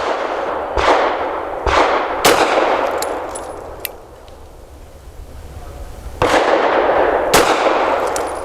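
FN 509 Midsize pistol firing Hornady Critical Duty 135 grain rounds: five loud, sharp shots come at uneven intervals, each with a short reverberant tail, and the third lands close behind the second.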